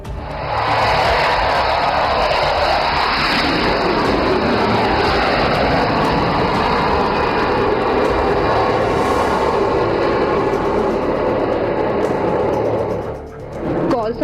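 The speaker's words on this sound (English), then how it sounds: "And now Abhimanyu 2 and 3 will carry out a low overshoot over the ELF and number 1 will land." Fighter jets making a low overshoot over an emergency landing strip at an air display: a loud, sustained jet roar fills the scene, swelling and sweeping overhead before dipping briefly near the end.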